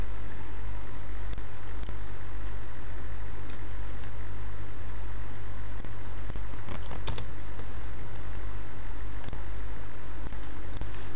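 Java code being typed on a computer keyboard, with scattered quiet key clicks over a steady low hum of background noise.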